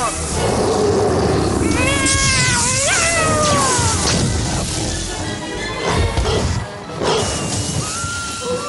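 A cat yowls and caterwauls loudly with rising, wavering cries, broken by a crash and clatter midway. A voice speaks briefly, and the cries continue in shorter bursts afterward.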